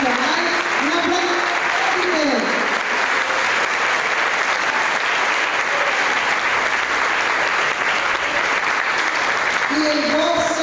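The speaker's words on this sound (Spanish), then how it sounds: "Un aplauso." Audience at a Catholic Charismatic Renewal gathering in Managua clapping loudly and continuously, a dense crowd applause filling the whole stretch, with a voice speaking over it briefly at the start and end.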